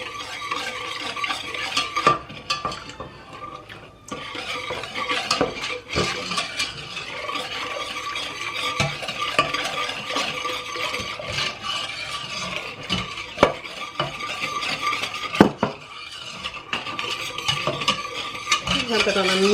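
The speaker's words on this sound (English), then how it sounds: "I'm just going to stir that in and get that incorporated" Stirring milk into a mixture in a pot on the stove, with steady spoon scraping and rubbing against the pot, occasional utensil clinks, continuous and close throughout.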